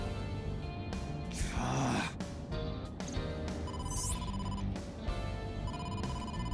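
An in-game phone rings during the video game Ai: The Somnium Files, repeating electronic ring tones over a busy backdrop of game music and effects, moderately loud with no voices.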